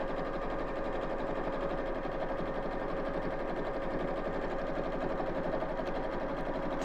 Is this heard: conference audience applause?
no